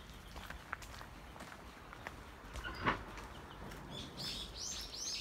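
Birds chirping and tweeting in a park during a walk with a Labrador Retriever, small calls scattered over soft footsteps, growing clearer and busier near the end, with faint outdoor background.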